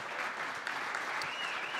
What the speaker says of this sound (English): how about a round of applause tonight for Evan Williams